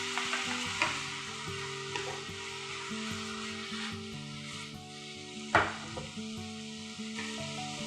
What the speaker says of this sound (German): Als vorletztes die Fleischstreifen in die Pfanne geben. Gut rühren.